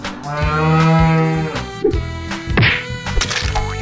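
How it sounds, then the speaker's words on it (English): A single loud, drawn-out cow moo, close and resonant, followed by a few short thumps and faint rustling. "Cow."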